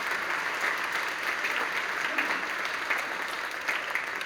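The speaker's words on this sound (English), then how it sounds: "Can we give a huge round of applause to our Bonita staff?" A spring concert audience at Bonita High School gives school staff a huge round of applause: a steady, dense wash of many hands clapping throughout the short stretch, without a break.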